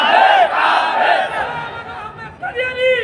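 A large crowd at an Islamic sermon gathering shouts a slogan back in unison, loud and close, with raised voices rising together and then another burst of shouting near the end.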